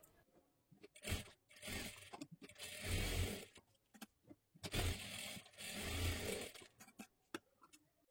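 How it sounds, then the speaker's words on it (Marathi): A sewing machine runs a double line of stitches on a katori blouse, in several bursts of whirring with short pauses and clicks between them, close and moderately loud with no talking. "डबल शिलाई मारून घ्यायची आहे"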